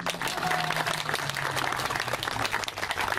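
Audience applauding a town mayor at a local gathering in Nieznanowice, a dense burst of clapping filling the whole short stretch, with a faint voice murmuring underneath.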